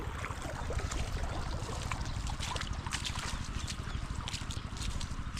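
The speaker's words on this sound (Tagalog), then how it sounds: "bali nga pagpandar na tayo ng makina" A small engine runs with a rapid, steady chugging putter, fairly close and continuous, with watery splashing noise over it in an outdoor farm setting.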